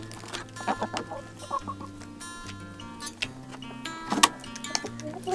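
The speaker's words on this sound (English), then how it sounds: "There's a chicken in the house." A chicken indoors in a farmhouse clucks in short, irregular bursts against a soft background hum, close and moderately loud.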